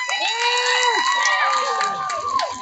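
Crowd at the Hampi festival in Vijayanagara cheering and shouting loudly after a call for applause for two guests, a dense, sustained roar of many voices with whoops and children's shouts, some individual voices rising above the mass.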